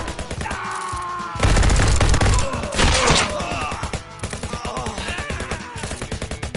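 Rapid bursts of gunfire in a VR shooting game, loud and close, with dense automatic volleys and repeated shots that fade into sporadic single pops near the end.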